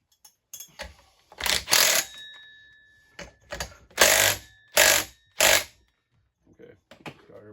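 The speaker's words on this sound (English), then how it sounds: "tighten that flywheel up" Ratchet tightening the flywheel nut on a Holzfforma chainsaw during a seal repair, heard as several short bursts of clicking separated by pauses, close and fairly loud, with faint shop movement between them.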